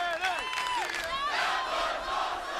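A wrestling arena crowd at TNA Lockdown 2006 roars and cheers steadily, a dense wash of shouting voices with a few higher yells rising out of it at the start.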